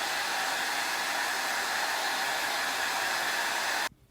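A hair dryer runs on its cold setting, blowing in a steady, loud whoosh for several seconds before it cuts off abruptly near the end.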